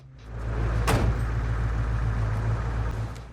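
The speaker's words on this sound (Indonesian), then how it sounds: "Setelah truk itu pergi" A truck drives away in a film scene, its steady engine rumble filling the clip, with a brief sharp clunk near the start and no talk.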